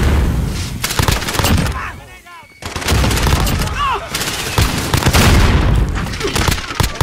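SMG gunfire in Call of Duty crackles in dense, loud bursts with heavy booms and a short pause midway, while a voice talks over the action.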